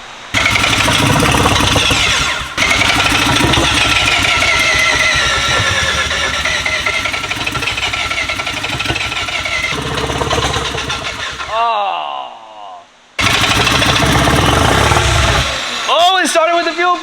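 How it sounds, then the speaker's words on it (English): A rotary-engined car fires up on its fuel pump after cranking, then runs loud and rough with sustained throttle. The engine drops away and rises again in sharp revs near the end. "Oh, it started with the fuel pump."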